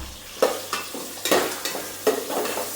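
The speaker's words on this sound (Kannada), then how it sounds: "ಈರುಳ್ಳಿ ಚೆನ್ನಾಗಿ ಬ್ರೌನ್ ಕಲರ್ ಆಗೋ ತನಕ ಫ್ರೈ ಮಾಡ್ಕೊಬೇಕು" Onions fry in hot oil until brown for chicken biryani: a steady close sizzle with the scrape of a spoon stirring through the pan at regular intervals, no voices.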